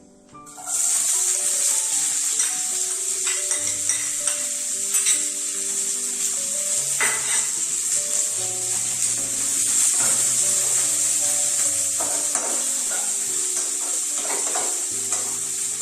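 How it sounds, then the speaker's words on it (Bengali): Onion sizzles and crackles steadily in a frying pan during home cooking, with occasional stirring scrapes and clinks, loud and close, continuous throughout with no talking. "পেঁয়াজটা ফ্রাই হবে।"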